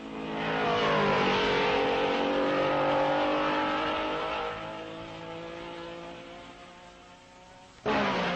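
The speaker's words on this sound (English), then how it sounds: "But back to the racing, and it's Von Trips in the lead" A 1961 Formula One racing car at Spa during the Belgian Grand Prix roars loudly past with a falling engine whine, fading into the distance before another engine abruptly cuts in at the end.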